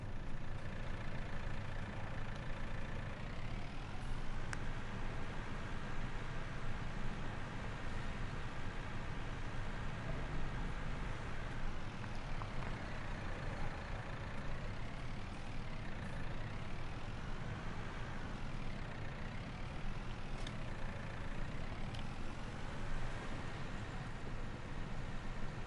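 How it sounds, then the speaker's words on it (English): A small farm tractor engine works steadily under load while pulling cedar, a continuous near drone with shifting pitch as the engine labors, unbroken for the whole stretch with no talking. "Look at that little feller go. Even my little tractor can pull this."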